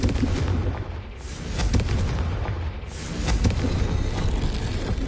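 Confringo blasting spell explosions in Hogwarts Legacy, heavy booming blasts with rumbling low end, several bursts rolling into one another, loud and close with no talk.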